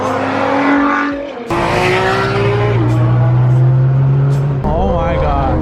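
Cars revving hard and driving aggressively at a JDM car meet, with engine notes rising and falling loudly and tires squealing, while people talk and shout nearby.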